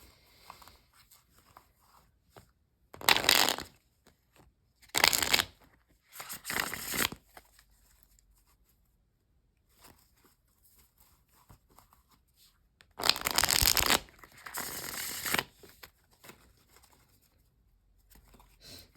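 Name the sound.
shuffling tarot cards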